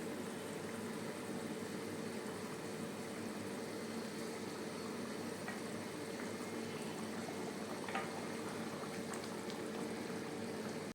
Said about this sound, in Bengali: ঝোলটা ফুটে গেছে, এবার মাছগুলো দিয়ে দেবো।